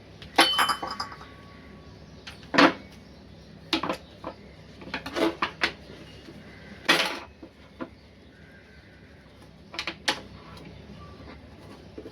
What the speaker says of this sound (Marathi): कापून घेते आता व्यवस्थित.